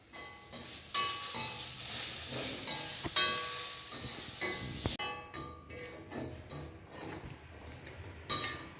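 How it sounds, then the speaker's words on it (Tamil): Grated coconut and crushed cardamom roast lightly in a pan, with a soft sizzle beneath scattered metallic clinks and scrapes from a utensil stirring, fairly quiet and close. "அதையும் இந்த தேங்காய் கூட லைட்டாக வறுத்துக்கிடுறேன்"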